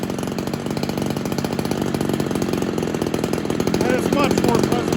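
A ported Homelite XL-76 chainsaw, its carburetor just adjusted, runs nearby with a rapid, continuous two-stroke rattle that holds steady and rises slightly toward the end.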